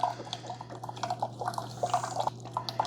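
A Keurig K-Supreme Plus coffee maker brews a water and vinegar mix. Quick irregular drips and trickles sound close up over a steady low electrical hum, with no talking.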